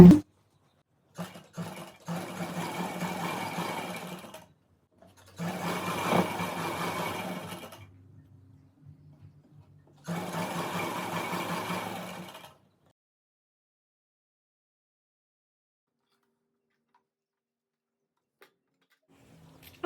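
Sewing machine stitching a saree belt runs in three bursts of a steady rapid hum and chatter, each a couple of seconds long, separated by quiet pauses, then silence for the rest.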